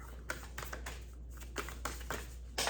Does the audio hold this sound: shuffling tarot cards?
yes